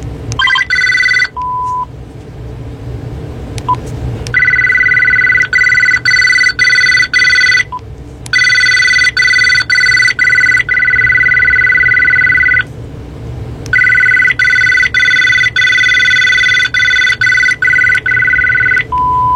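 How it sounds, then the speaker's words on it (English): A loud electric telephone bell, a Thompson's or Atkins ringer, rings in long repeated bursts with short gaps between them, close and harsh, with no talking. "That's like a Thompson's or Atkins ringer."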